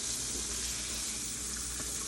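Liver frying in a pot gives off a loud, even hiss of sizzling fat that runs unbroken from start to finish, with no voices over it.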